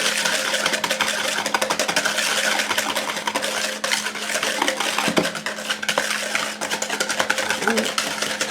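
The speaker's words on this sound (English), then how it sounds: "we're just going to whisk this together." A whisk beating macaroni salad dressing in a bowl, a fast continuous scraping and clinking rattle that runs steadily throughout at close range.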